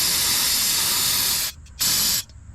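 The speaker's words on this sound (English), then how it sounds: "hit it with some brake clean" Brake cleaner sprays in a loud, close hiss onto a Honda Civic Si ABS part, a long burst, then a short pause and a second brief burst before it cuts off.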